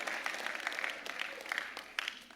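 A gala audience applauds continuously in a dense wash of many hands, steady throughout with a few sharper claps standing out.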